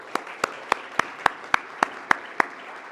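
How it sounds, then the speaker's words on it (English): A handful of slow, evenly spaced claps ring out from an audience at a Caribbean defense and security panel, about one clap every third of a second, fairly close and with no talking over them. "one more round of applause for this great discussion"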